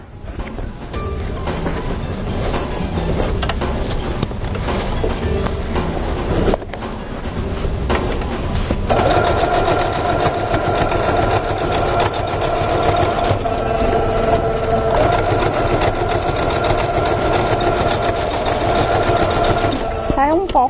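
A sewing machine stitches a fabric bag, running in a loud continuous whirring drone with brief pauses and speed changes; a person talks over it.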